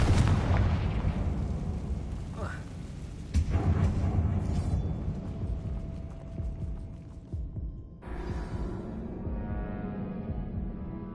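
A Confringo blasting curse bursts in a mine that looks like a tomb in Hogwarts Legacy, a loud booming explosion at the start with a second blast about three seconds later, then rumbling debris fading into a lower hum.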